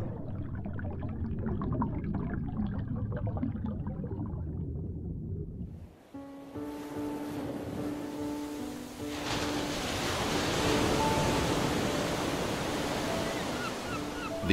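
Ocean waves and surf wash in a soft, continuous roar, at first alone and then under swelling orchestral music that layers sustained tones over the surf.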